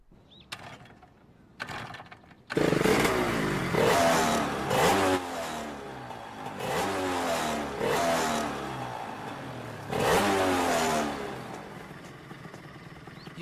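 A motorcycle with a sidecar revs hard and accelerates in repeated surging bursts, loud and close, after a few brief mechanical clunks at the start.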